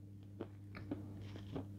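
A firm, hard orange marshmallow is bitten into with effort, giving three soft, crunchy bites spaced about half a second apart over a steady low hum, with no talking.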